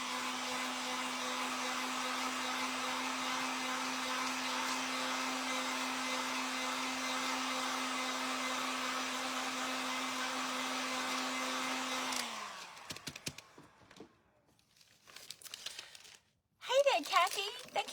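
Hair dryer blowing on a craft pumpkin made from thrifted items, a steady loud whine for about twelve seconds that cuts off, followed by quiet handling noises and a voice.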